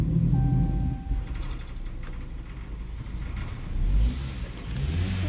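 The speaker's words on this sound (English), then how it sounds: "Revving it up." A car engine rumbles and revs, out of gear with no load on the transmission, rising and falling in pitch, heard up close with no voices.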